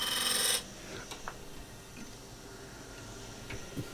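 A wood spindle on a lathe is trued up with a spindle roughing gouge, giving a loud, brief rasping cut at the start, then a quieter hum with scattered light ticks and taps.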